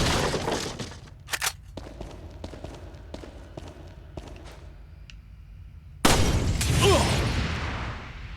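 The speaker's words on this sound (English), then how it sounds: "Now you kick down this door." A wooden door is kicked open in the survival-horror game Resident Evil 4, landing as a sudden loud crash and burst of splintering that follows a quieter stretch of scattered small knocks and footsteps.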